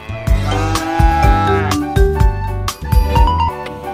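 A cow moos repeatedly over bright, bouncy electronic music, the lowing loud and close.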